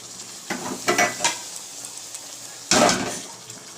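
Fish curry gravy for pabda fish bubbles in a pan with a close sizzle and bursts of spattering, joined by clattering knocks of a utensil against the pan.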